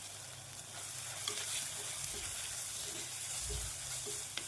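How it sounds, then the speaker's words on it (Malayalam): Chopped tomatoes sauté with chicken masala in a pan, a soft steady sizzle with occasional scraping stirs and light knocks, quiet and close, with no talk. "വീണ്ടും ഒന്ന് വഴറ്റിയെടുക്കണം."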